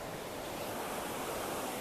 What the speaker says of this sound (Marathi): खूपच सुंदर असा धबधबा तुम्ही बघू शकता माझ्या मागे।